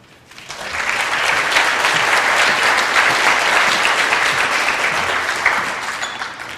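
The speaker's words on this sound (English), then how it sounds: "These students have worked hard their entire academic career and deserve a round of applause each time their name is called" A school audience applauds a student at a senior awards night, with steady, dense clapping that rises quickly, holds full for several seconds and tapers slightly at the end, with no talking.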